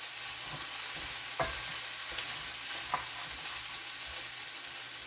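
Vegetables stir-frying in a wok, seasoned only with soy sauce: a constant soft hiss of frying with a few sharp spatula taps and scrapes, close by and without talk.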